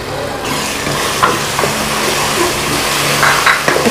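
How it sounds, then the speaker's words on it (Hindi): Garlic ginger paste stirs into golden brown frying onions, a steady dense sizzle with soft scraping of the spoon now and then, close and fairly loud, with no one talking. "इसको हल्का सा हिला लेंगे इस तरह से"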